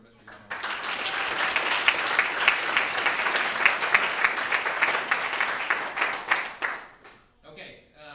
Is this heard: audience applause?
yes